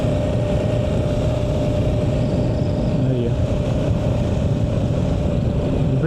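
Yamaha Ténéré motorcycle engine running steadily just after an oil change, a smooth continuous drone with a loose front skid plate adding some vibration, heard close up as someone speaks briefly.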